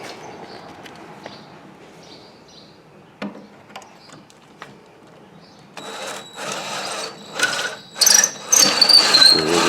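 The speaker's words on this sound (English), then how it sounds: "That is a 250 reamer." A 0.250-inch reamer is driven through drilled holes to align them on a flats skiff build. It starts as faint scattered taps, then becomes a louder whirring, squealing cutting sound in repeated bursts.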